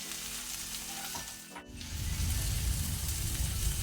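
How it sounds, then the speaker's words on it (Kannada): Chopped onions and curry leaves fry in hot oil with a steady close sizzle that dips briefly as they are stirred, then swells into a louder, fuller crackling hiss. "ಈರುಳ್ಳಿ ಒಳ್ಳೆ ರೀತಿ ಗೋಲ್ಡನ್ ಬ್ರೌನ್ ಕಲರ್ ಬರುವ ತನಕ ಫ್ರೈ ಮಾಡ್ಕೊಳ್ಳುವ"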